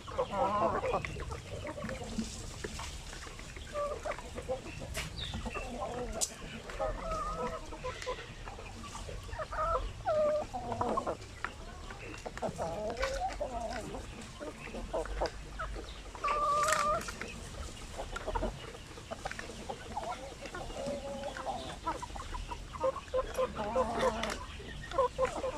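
Chickens clucking and calling on a poultry farm where fertile eggs are collected, steady overlapping clucks throughout with occasional sharper calls, a voice talking at times beneath the birds.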